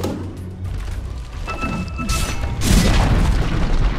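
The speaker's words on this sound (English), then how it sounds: "Dire's bottom tower has fallen." A loud boom as a tower is destroyed in Dota 2, a deep thudding blast with crumbling rumble that swells and lingers over game noise.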